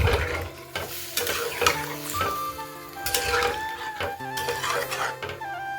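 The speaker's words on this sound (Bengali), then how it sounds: "এখন টমেটো দিয়ে একটু নেড়েচেড়ে নেব।" Tomatoes sizzle and fry in a pan in a home kitchen while a utensil stirs and scrapes them, with occasional light clinks against the pan. The sound is close and steady, with no one talking.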